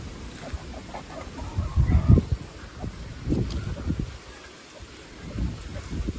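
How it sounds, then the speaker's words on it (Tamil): Gusty wind rumbles and buffets outdoors among durian trees in uneven surges, loudest around the middle, with a faint bird call somewhere in the background. "காற்றடிக்குது"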